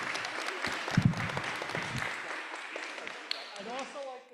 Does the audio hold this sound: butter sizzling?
no